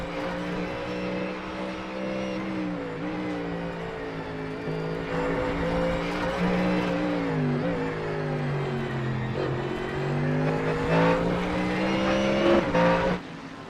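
GT3 race cars, among them a Ferrari, race closely on the Nurburgring GP circuit in iRacing, their engines droning loud and continuous with rising and falling pitch as they accelerate and shift.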